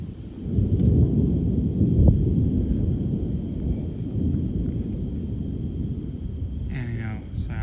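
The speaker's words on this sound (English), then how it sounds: "There's another bolt lightning strike." Deep, sustained thunder rumbles loud and close after a lightning strike from a low-precipitation supercell thunderstorm in Cumberland County, North Carolina, rolling on for several seconds with outdoor ambience and a faint chirp near the end.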